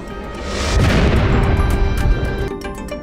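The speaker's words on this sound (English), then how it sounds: "the expansion began some 14 billion years ago with the explosive birth of the universe, the Big Bang" A big explosion sound effect representing the Big Bang swells into a loud, deep rumbling roar that keeps going for about two seconds before it begins to fade, with no voices over it.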